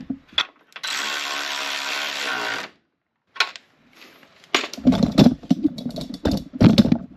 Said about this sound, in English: I will ratchet this back on.